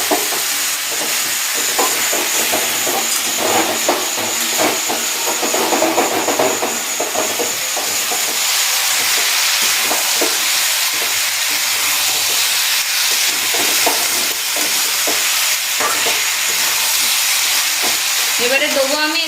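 Tomato fries and is stirred into chicken kosha in a pan, giving a loud, dense steamy sizzle and hiss with irregular scraping and stirring clatter throughout the long stretch.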